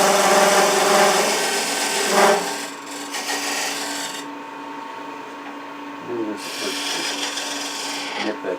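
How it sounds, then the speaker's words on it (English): A chuck tenon with a dovetail is turned on the end of a wooden replacement finial for a massive antique bedpost, giving a steady, loud, close scraping hiss from the lathe tool on the spinning wood, with brief changes in tone. "let's make a chuck tenon on this end"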